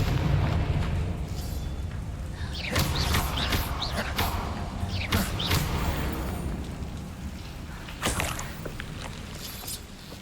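Spell blasts and impacts go off in the Hogwarts Legacy video game, including a Confringo fiery blast: several sharp booming bursts over a dense, rumbling combat bed, loud and close.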